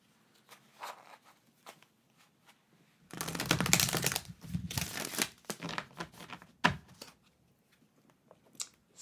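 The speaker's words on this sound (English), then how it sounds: "I'm going to shuffle my cards." Tarot cards being shuffled, a burst of crisp riffling and flicking lasting a couple of seconds, followed by scattered softer card taps and rustles, close and fairly quiet.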